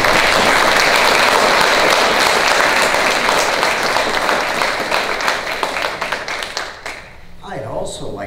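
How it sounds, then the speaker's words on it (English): A debate audience in a city council hall applauds to welcome the municipal ward candidates: loud, dense clapping holds steady for several seconds, then thins and fades, with a voice beginning to speak near the end. "So please join me in applause welcoming the candidates."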